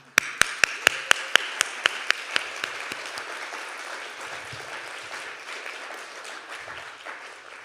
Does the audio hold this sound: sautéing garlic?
no